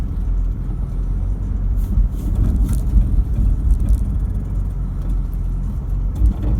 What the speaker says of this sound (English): Gee, the 150 works hard to get the job done.